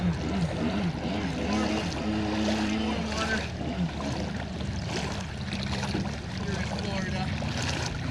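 Mini aluminum jet boat running on the water, a loud continuous engine and jet drone with rising and falling tonal whine and splashing, close by and sustained throughout.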